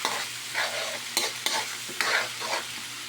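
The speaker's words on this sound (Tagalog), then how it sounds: "Ilagay natin itong Argentina corn beef. Ihalo natin sa sinagag ang corn beef." Argentina corned beef is stirred into garlic fried rice in a hot pan, with scraping spatula strokes and clinks over a constant sizzle, close up and with no one speaking.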